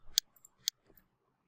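A computer mouse double-clicked, two sharp crisp clicks about half a second apart in a quiet room, close and clear with a faint softer tick after.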